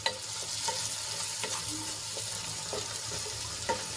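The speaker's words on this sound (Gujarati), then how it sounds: "હવે એમાં આપણે ટમેટા એડ કરીશું અહીંયા મેં બે ટમેટાને ઝીણા કટ કરી લીધા છે એ એડ કરી દઈશું અને ડુંગળીમાં સરસ રીતે મિક્સ કરી લઈશું" Two finely chopped tomatoes are stirred into frying onions in a pan, with a soft steady sizzle under repeated spoon scrapes and taps against the pan, fairly quiet and close, no talk.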